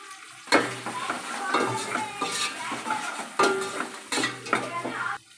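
Turmeric and ginger-garlic paste sizzle and fry in a pan for chicken gongura, with repeated stirring scrapes and clinks of a utensil against the pan in bursts over a steady crackle.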